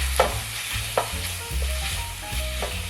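Beef stir-frying in a hot pan over high heat for Mongolian beef, a steady close sizzle broken by repeated scraping strokes of the stirring utensil, no voices.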